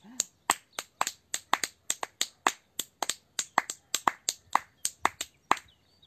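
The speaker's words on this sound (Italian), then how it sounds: "Clapping the feet!" Children doing kids yoga clap their feet together, making a fast irregular run of sharp, crisp slaps, about three or four per second, close and clear with no talking.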